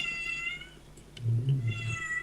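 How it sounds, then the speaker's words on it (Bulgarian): A single drawn-out cat meow, fairly close, over a quiet backdrop of soft tonal game music, in Minecraft. "Да, аз чувам котката."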